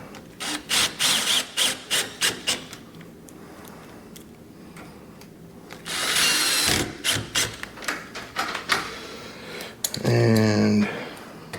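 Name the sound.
power drill driving in two screws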